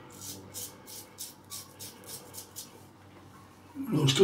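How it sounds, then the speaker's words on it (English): A cheap razor scrapes across stubble in a steady series of about a dozen quick, close strokes, each a short rasp, before a louder burst of noise at the end. "Despite being a relatively cheap razor,"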